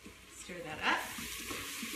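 Spicy black beans sizzle in a pan while a spoon stirs them, with a soft, steady frying crackle and a brief louder scrape partway through, heard close and fairly quiet.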